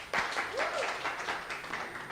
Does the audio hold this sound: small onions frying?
no